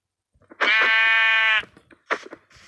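A single drawn-out bleat from a Minecraft sheep rings out loud and clear, followed by a few short clicks and soft game sounds.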